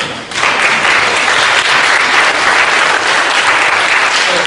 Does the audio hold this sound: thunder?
no